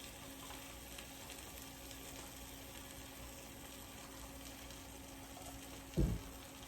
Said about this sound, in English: we've got it simmering on low until I get everything in here